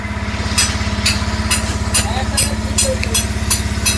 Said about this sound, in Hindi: थोड़ा मैं बाइक को चलाकर भी दिखाता हूँ आपको।